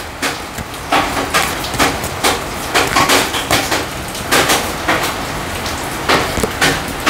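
Heavy storm rain pours down outdoors, a loud, constant hiss of drops striking surfaces, swelling in repeated surges with a faint engine rumble underneath and no voices.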